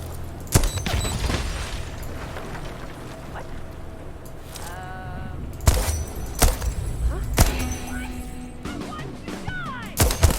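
Gunfire from a gun in the video game Deathloop: several loud, sharp shots spaced a second or two apart, with a quick double burst at the end over a low rumbling background.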